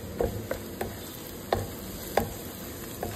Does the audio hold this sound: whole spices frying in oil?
yes